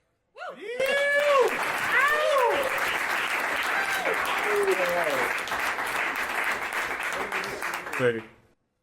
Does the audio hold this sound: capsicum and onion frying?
no